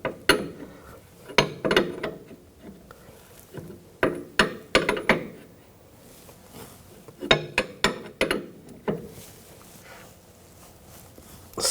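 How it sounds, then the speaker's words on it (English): A wrench tightening the jam nut on the steering rack of a 2000–2006 BMW X5, producing clusters of sharp metallic ratchet clicks in quick bursts with short pauses between them. "Tighten up the jam nut."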